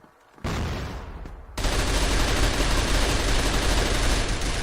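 Bursts of AK rifle fire in a first-person shooter video game on a Christmas-themed fantasy map, loud and dense, coming in after a brief lull and continuing as sustained rapid gunfire without talk.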